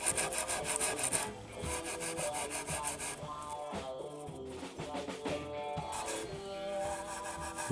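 Hand rubbing and polishing across the finish of a Hamer Slammer guitar body, a continuous close scratchy back-and-forth friction sound in quick strokes, fairly quiet with no talk.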